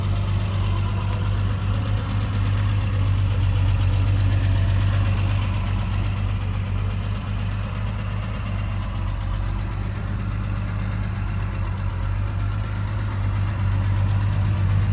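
A 1976 Triumph TR6 with SU carburetors idles at around 900 RPM, a steady, loud, close engine drone with a low, even pulse that holds unchanged throughout, with no voices.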